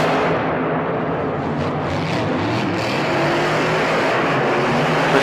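Monster trucks Maximum Destruction and Lucas Oil Crusader racing head to head inside the Georgia Dome in Atlanta, a loud, steady, continuous engine roar that fills the arena without a break.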